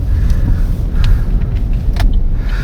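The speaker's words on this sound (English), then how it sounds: "Put it in gear, and let's take off." A 2018 Chevrolet Sonic LT is shifted into gear and pulls away on a chilly day, its engine a steady low rumble heard from inside the cabin, with a few faint clicks and rattles over the drone and no talking.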